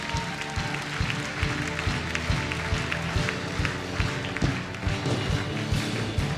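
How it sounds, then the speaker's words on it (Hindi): A church congregation claps together in steady rhythmic beats at a Hindi Christian testimony service, the loud, dense clapping continuing throughout. "तालियां बजाएं यीशु मसीह के नाम में।"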